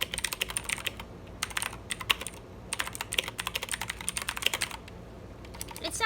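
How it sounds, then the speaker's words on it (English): Fast, irregular clicky keystrokes from a Redragon K552 mechanical keyboard with blue switches, typed at a steady pace with short pauses between bursts, close and alone with no talking. "But this is what it sounds like when you're typing."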